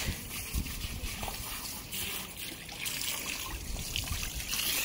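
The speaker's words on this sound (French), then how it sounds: "On en profite des douches à l'extérieur parce que nous on n'a pas de jet comme ça" An outdoor shower jet sprays water over a horse after an eventing competition, producing a steady, close hiss of splashing and trickling water that runs without a break.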